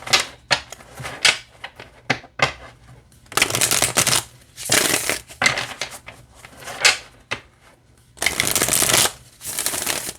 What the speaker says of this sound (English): it feels really good to shuffle